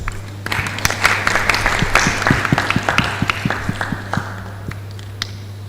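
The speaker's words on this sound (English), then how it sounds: "please join me in giving a warm round of applause to our speakers" A conference audience at a nuclear medicine society meeting claps for its speakers, a thin, scattered patter of individual hand claps in steady rhythm, fairly close and without talk.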